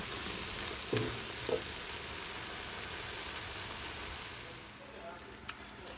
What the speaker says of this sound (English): vegetables have sauteed quite a bit in the butter